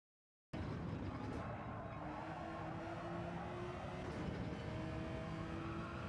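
A race car in a video game screams at full throttle through a reverse Nurburgring section, a loud, continuous engine howl that starts abruptly after a short silence and holds steady with faint rising tones.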